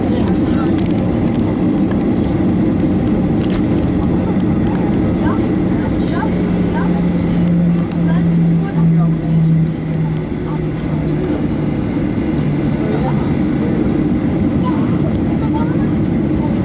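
An airplane taxiing toward the runway, heard from inside as a loud, steady engine drone with a low tonal hum throughout, while people talk over it.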